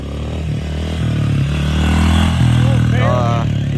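A pit bike engine revs and roars up close as the rider pops a wheelie, its droning pitch rising and falling with throttle over a continuous rumble.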